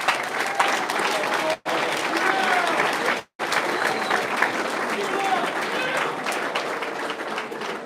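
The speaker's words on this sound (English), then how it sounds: "Let's give this family a big round of applause" A signing day crowd gives a family sustained, dense applause, steady and loud, broken by two brief pauses.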